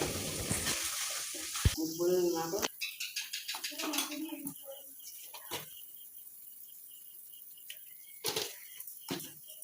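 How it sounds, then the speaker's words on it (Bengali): Spice paste with poppy seed paste sizzles in a pan while being stirred, giving bursts of frying hiss and scraping strokes, loudest early, then quieter with occasional sharp sputters. "মশলাটা কিছুক্ষণ নাড়াচাড়া করার পরে এর মধ্যে পোস্ত বাটা, হলুদ গুঁড়ো, জিরে গুঁড়ো, ধনে গুঁড়ো আর স্বাদ মতো লবণ দিয়ে আবারও কিছুক্ষণ ভালোভাবে নাড়াচাড়া করতে হবে"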